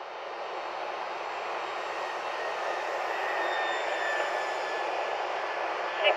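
A Timber X RC airplane flies at night, giving a steady airy motor drone with a thin whine that holds at a constant moderate level and swells slightly near the end.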